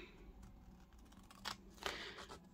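Scissors snip around a label cut from craft packaging for junk journal ephemera, giving a few faint crisp cuts, two of them clearer near the end, over a quiet room with no speech.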